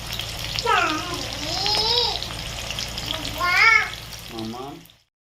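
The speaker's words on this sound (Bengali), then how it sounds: "সাদা তেলটা দিয়ে প্রথমে বেরেস্তা ভেজে নেব" Sliced onions frying as beresta in plenty of hot white oil for a homemade mutton biryani, a steady close hiss and sizzle that swells and fades, with a voice speaking over it.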